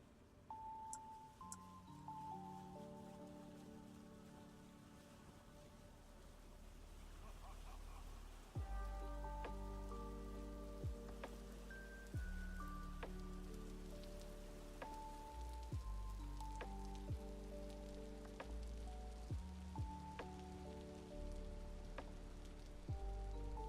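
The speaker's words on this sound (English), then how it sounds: "It's finally raining." Rain falls in the survival game Vintage Story, a steady broadband hiss of drops on surfaces, while a soft tonal game music line plays over it throughout.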